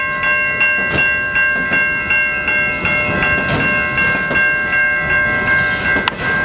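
A Norfolk Southern auto rack freight train rolls past the Vinewood Ave crossing in Wyandotte, Michigan, loud and close, with steady rumble, rhythmic wheel clicks over rail joints and a sustained ringing tone throughout.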